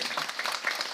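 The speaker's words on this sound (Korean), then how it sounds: "오, 맞아요. 큰 박수로." A church congregation gives a round of applause during a Sunday service, a brief, busy patter of many hands clapping at close range.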